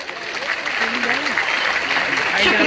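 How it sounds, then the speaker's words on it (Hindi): An audience applauds after a dance performance by college students at a jubilee event, a dense, steady clapping that is loud and close and grows slightly stronger toward the end, with a voice speaking over it. "एक बार पुनः जोरदार तालियां।"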